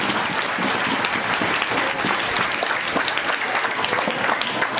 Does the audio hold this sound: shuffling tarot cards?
no